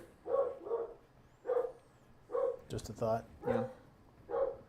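A dog barks repeatedly in the background, several spaced single and doubled woofs, moderately faint, while people talk over the barking.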